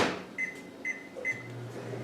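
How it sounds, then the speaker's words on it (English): A microwave oven in a home kitchen beeps three times in a steady rhythm, each tone short and clear, followed by a low hum as the oven starts running to warm a lemon. "I'm going to throw it in the microwave for about 25 seconds."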